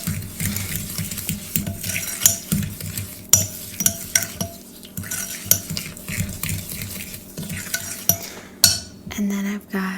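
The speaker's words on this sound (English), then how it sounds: "Mix in the melted butter and the sugar" Melted butter and sugar stirred in a bowl for banana bread, a close, soft scraping and clinking of utensil against bowl in irregular strokes, with no talking.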